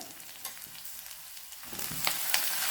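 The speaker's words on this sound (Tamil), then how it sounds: "வெங்காயம் வந்து வதங்கிடுச்சு இப்போ தக்காளி சேர்த்துக்கிறேன்" Tomatoes tipped into onions sautéing in a pan for a meat curry, a steady close sizzle that swells louder and brighter partway through as the tomatoes go in.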